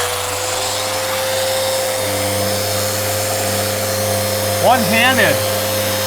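A Festool Rotex 125 sander runs with a steady, loud whirring drone and a constant motor hum throughout, while a person speaks briefly near the end.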